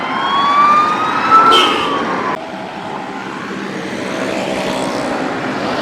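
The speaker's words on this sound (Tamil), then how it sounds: "ஆம்புலன்ஸ் வருது." An ambulance siren wails with a sliding, rising tone over steady traffic noise, then fades into a continuous road rumble.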